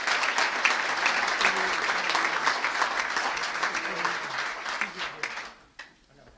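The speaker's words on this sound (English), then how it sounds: "one more final round of applause" Audience at a student-athlete awards banquet applauding, dense sustained clapping that fills the room and tapers off near the end.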